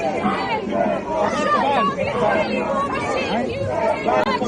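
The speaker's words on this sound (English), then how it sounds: "Sounds like there's a huge crowd outside there." A large outdoor crowd at a protest fills the scene with dense, continuous chatter and babble, many overlapping voices at steady loudness, heard as playback from a video.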